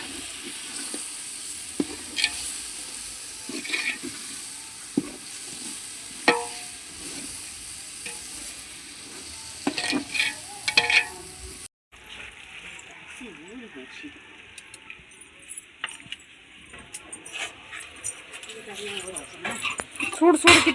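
A pot of soya chunk (meal maker) curry cooks on the heat with steady sizzling and bubbling, and a spoon stirs and scrapes against the pot. Voices talk over it in the background.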